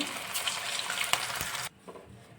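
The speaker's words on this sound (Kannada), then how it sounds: "ಇದೇ ಥರನೇ ಫ್ರೈ ಮಾಡ್ಕೊಳ್ತಾ ಇದ್ದೀನಿ. ಮೀಡಿಯಮ್ ಫ್ಲೇಮಲ್ಲಿ ಇಟ್ಕೊಂಡೆ ಫ್ರೈ ಮಾಡ್ಕೋಬೇಕು" Pieces of raw banana manchurian frying in oil over a medium flame give a steady, close, hissing sizzle. Near the end the hiss suddenly drops to a much quieter bubbling. No one speaks.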